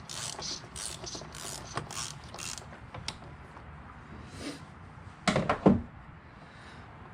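Oil filter being unscrewed by hand on a BMW E46 wagon, a series of close clicking ratchet strokes followed by a louder scraping, rattling twist near the end.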